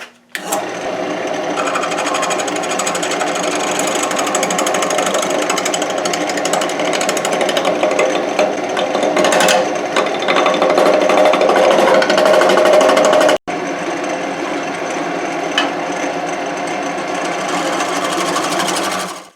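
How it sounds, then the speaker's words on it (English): A wood lathe making a facing cut with a homemade tool, a loud, steady, continuous scraping and whirring drone that runs almost unbroken, with one brief dropout near the end. "Facing it off with the lathe worked really well, and the surface is actually totally flat now."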